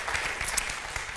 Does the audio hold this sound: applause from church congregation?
yes